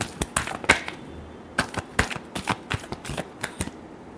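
A deck of tarot cards is shuffled by hand, giving a quick run of crisp, close riffling snaps and flutters in an uneven rhythm with no talking.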